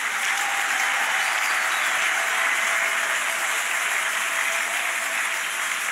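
A church congregation in Bukavu applauds for God during a pastor's message of comfort, a dense, steady roar of many hands clapping together without pause for the whole stretch, loud and close with no voices rising above it.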